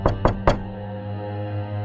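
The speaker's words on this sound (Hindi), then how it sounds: "बाहर से कोई दरवाजा खटखटा रहा" Someone knocks on a door: three sharp, close raps in quick succession, then quiet, with a low steady hum underneath.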